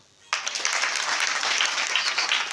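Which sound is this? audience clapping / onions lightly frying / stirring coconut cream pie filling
audience clapping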